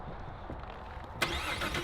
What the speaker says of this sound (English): So he's going to turn the car on.